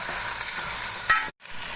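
Garlic and spices sizzle and crackle steadily in a pan as they are stirred for a chicken korma, with a bright, continuous fry that drops out abruptly near the end before resuming.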